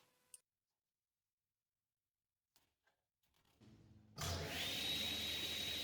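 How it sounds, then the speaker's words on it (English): A table saw cuts a bundle of kumiko wood strips taped together. After near silence and a few faint clicks, the motor spins up, then a loud, steady cutting roar with a high whine takes over. "how the small pieces just pop away from the table saw blade."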